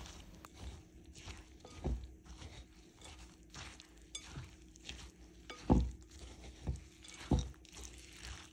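Quiet, irregular soft thumps and light clinks of a utensil against a bowl while apple compote is mixed into a wet, sticky flourless, gluten-free apple biscuit dough, close and faint with no talking.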